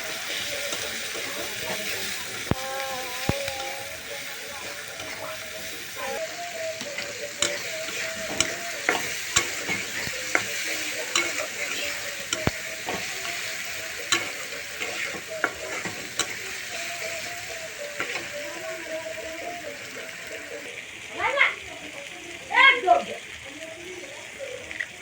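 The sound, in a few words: stirring onion, chili and chopped tomato frying in pan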